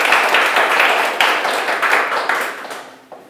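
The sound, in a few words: audience applause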